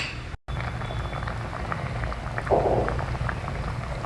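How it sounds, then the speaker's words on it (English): Kootu, a South Indian vegetable gravy, bubbling and simmering in a pot, a steady soft gurgle with occasional louder pops, close by and fairly quiet. "See, now it is boiling well"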